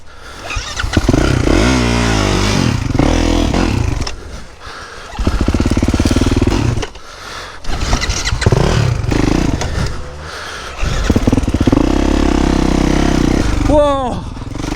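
A motocross bike ridden on a rough trail revs hard in repeated bursts, engine rising and falling between short pauses, close and loud, with a rider's voice breaking in between the revs.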